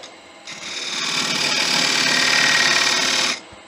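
A wood lathe cutting a deeper tenon on a bowl blank runs as one steady, loud whirring grind lasting about three seconds, starting and stopping cleanly with no talk over it.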